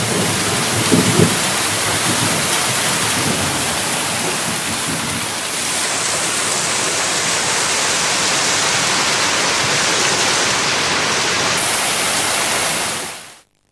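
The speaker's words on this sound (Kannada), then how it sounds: "ಇನ್ನೊಂದು ಕಡೆ ಆನೇಕಲ್ ಹಾಗೇನೆ ನೆಲಮಂಗಲದಲ್ಲಿ ಭಾರೀ ಮಳೆಯಾಗಿದೆ." Heavy downpour near Anekal and Nelamangala in the Bengaluru region, a loud, continuous hiss of rain with a low rumble, steady throughout and cutting off abruptly at the end.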